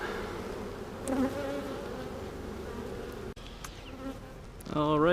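Honeybees buzz around a hive during an inspection, a dense, continuous droning hum with individual bees passing close by, a brief dropout partway, and a sharper rising buzz near the end.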